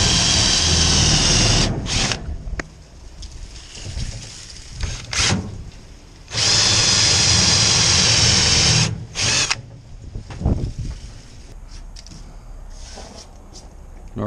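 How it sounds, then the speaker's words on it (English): A drill with a high-speed twist bit marks hole spots on a soft wash and pressure wash trailer build, running in loud bursts of whirring with short pauses between them, no talk. "I'm just gonna put a drill impression in there."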